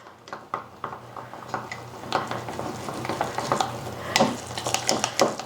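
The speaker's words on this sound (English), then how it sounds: "So we stir this all up." Sourdough starter stirred with a fresh wooden stick in a container, giving a run of soft scraping and knocking strokes, close and moderately loud, at an irregular rhythm with no talking.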